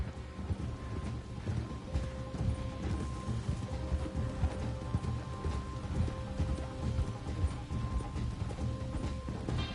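Steady clip-clop of several horses' hooves at a walking pace in the video game Red Dead Redemption 2, close by, with faint creaking and clinking mechanical sounds underneath.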